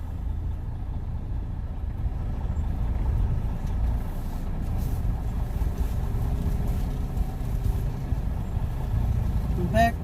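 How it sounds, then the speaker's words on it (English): A truck engine idles and rumbles steadily at close range while the truck backs up, a continuous low drone with faint clanks. Speech-like sound is present, but no clear words come through. "Back the truck up."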